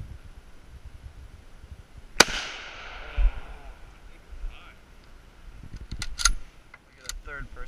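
A single sharp gunshot rings out at an outdoor shooting range, aimed through weeds, with a short decaying echo; someone talks quietly before and after, with a few faint clicks and rustles.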